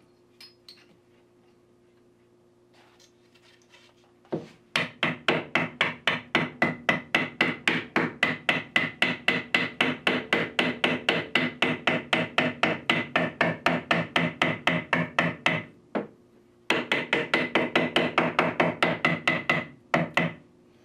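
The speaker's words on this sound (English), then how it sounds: "now it's time for the hammer." Rapid, steady hammer blows drive T-molding into the edge of a Donkey Kong arcade cabinet, a long run of evenly spaced taps that pauses briefly and then continues at the same brisk pace.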